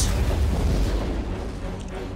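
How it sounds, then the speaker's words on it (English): A grenade blast in the video game Star Wars Jedi: Fallen Order, a loud low boom at the start that rumbles and fades over about two seconds. "watch out for the grenade!"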